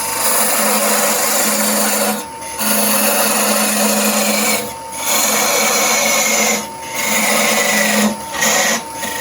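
A parting tool cutting into a wooden goblet blank spinning on a lathe gives a steady, loud rasping scrape, broken by three short pauses as the tool is lifted between cuts.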